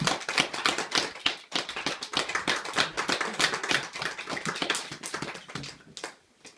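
Audience applause for a children's magician at a magic show, dense steady clapping from many hands that carries on for several seconds before thinning out and fading at the end.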